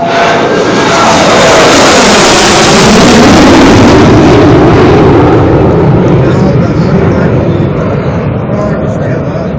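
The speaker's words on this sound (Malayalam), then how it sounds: "എക്സ്പ്രസ് വേയിൽ Sukhoi thirty M K I വിമാനത്തിന്റെ പ്രത്യേക ലാൻഡിംഗ്" Sukhoi-30 MKI fighter jet landing on an expressway: a loud, continuous jet engine roar with broad rushing noise that swells around the middle and then eases slightly, heard alone.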